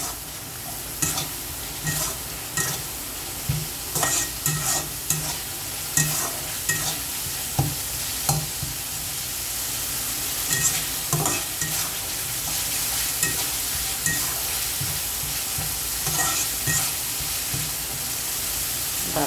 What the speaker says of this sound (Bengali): তাহলে একটু ভালো করে কষানো, একটু পানি দিলে।